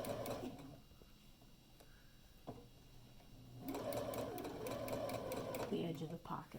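Sewing machine stitching a fabric drawstring bag, starting after a short pause and running steadily for the last few seconds while a person talks over it.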